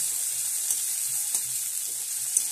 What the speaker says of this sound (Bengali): তো এই তেলের মধ্যে পেঁয়াজগুলো দিয়ে দিলাম, অল্প পেঁয়াজ